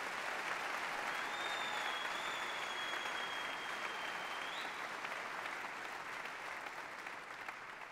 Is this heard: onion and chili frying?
no